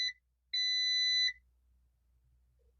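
A multimeter gives sharp electronic beeps during a continuity check on a capacitor on a circuit board: a short tone, then a longer steady beep of about a second, with a faint blip at the end in a quiet room.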